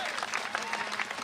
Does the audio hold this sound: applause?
yes